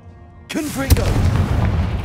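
A Confringo blasting spell in Hogwarts Legacy fires with a sharp, loud boom that follows a short voiced incantation, then a rumbling wash trails off behind it.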